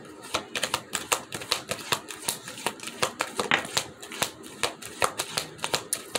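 A tarot deck being shuffled and handled, rapid crisp card snaps and flicks in an uneven, busy rhythm, close and fairly loud, with no talk over it.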